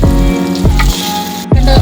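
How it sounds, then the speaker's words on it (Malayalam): Masala-coated mackerel fries loudly in hot oil close up, a dense sizzle with a humming undertone and a few sharper bursts. "ആദ്യം മീൻ വറുത്തെടുക്കാം"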